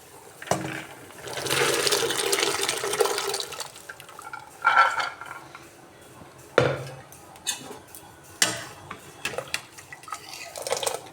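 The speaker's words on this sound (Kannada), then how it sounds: "ಸೊ ಇವಾಗ ನಾನು ಬೇಳೆನ ಹಾಕ್ತಾ ಇದ್ದೀನಿ" Cooked lentils poured into a pot of avarekai sambar, a loud wet splashing rush followed by scattered metallic clanks of a spoon and pot, close by.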